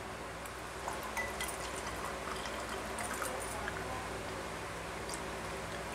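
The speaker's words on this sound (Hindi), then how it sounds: "और अब हम डालेंगे इसमें पानी।" Water pours into mango pulp for aam panna, a soft steady splashing trickle with faint drips running throughout, close and fairly quiet, with no talking.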